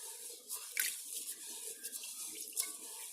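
Water running and swishing as rice is rinsed a second time in a kitchen before a dinner of smoked fish and greens, a soft, steady splashing with a few small clinks, near and fairly quiet.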